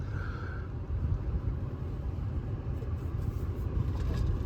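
A VW Passat 1.8 TSI driven on the road, heard from inside the cabin as a steady low engine and road rumble, continuous and fairly loud, with no talking.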